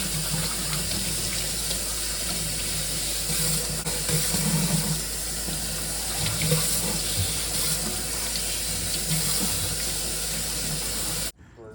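Kitchen tap water running steadily into a sink while reusable items are rinsed, a constant close splashing rush that cuts off abruptly at the end.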